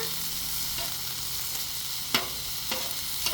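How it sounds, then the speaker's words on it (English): Vegetables and rice fry with soy sauce on a Blackstone flat-top griddle, giving an even, continuous sizzle broken by a few sharp metal spatula taps and scrapes. "So we've got our vegetables cooking up here."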